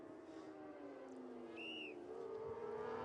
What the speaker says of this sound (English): A whistle in the background